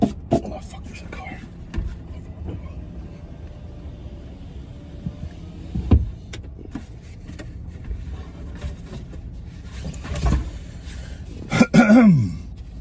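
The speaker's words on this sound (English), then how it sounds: "that was a food cough" A man coughs and clears his throat while eating fast food in a car, with a sharp cough partway through and a harsher burst near the end, over a low idling background and some murmured speech.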